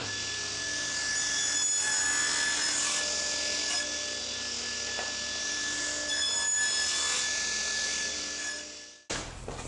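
A table saw cuts a V-notch into a wooden circle for a footstool, a loud sustained whining buzz of the blade biting through wood, swelling twice before spinning down abruptly near the end.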